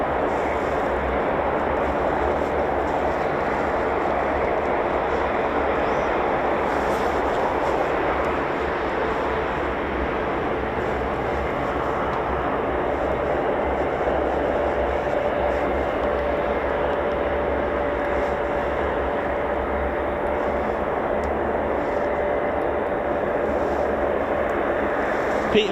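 Steady, loud roar of C-130 Hercules turboprop engines running on the ground at RAF Mildenhall, a continuous broadband drone with a faint whine that holds unchanged throughout, with no talk over it.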